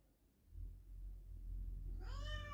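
After a stretch of low rumbling quiet, a pet cat lets out a single clear, drawn-out meow close by near the end, apparently calling for another cat.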